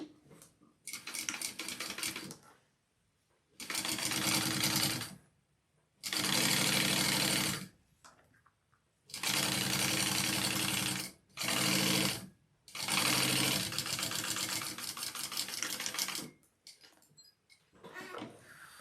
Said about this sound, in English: I'm going to go ahead and top stitch down that fold